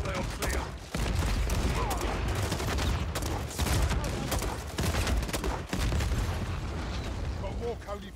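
Sustained gunfire from Call of Duty 3's World War II campaign, a dense, loud fusillade of overlapping shots and booms running nearly unbroken, with brief dips, and voices mixed in beneath the battle.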